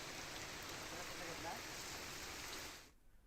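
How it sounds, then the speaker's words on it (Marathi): Heavy monsoon rain pours down at night in Dapoli, a dense, steady hiss close by that cuts off abruptly just before the end. "मोठ्या प्रमाणात पाऊस कोसळतोय"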